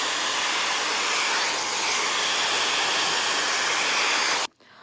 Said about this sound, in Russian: Я очень искала фен именно с этой насадкой, потому что у других аналогов Dyson она не представлена.